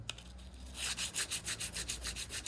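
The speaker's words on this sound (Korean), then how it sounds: "이 정도 칼은 그냥 이런 빼빠에다가 이렇게 가르셔도 날이 충분히 씁니다" A pottery trimming knife is rubbed back and forth on sandpaper, giving a steady series of close, soft rasping strokes in an even rhythm with no talking.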